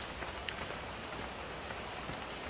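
Steady rain falling in the Farming Simulator 17 video game, a soft, even patter of drops on surfaces with no voices, holding a constant low level throughout.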